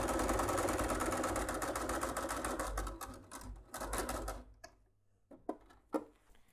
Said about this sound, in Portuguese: você vai deixar o seu tecido bem em cima e vai passar a costura aqui